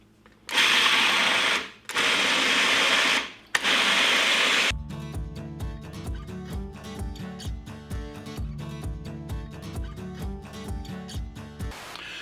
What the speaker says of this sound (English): I have a Cuisinart, just a classic Cuisinart. It only has one speed, go.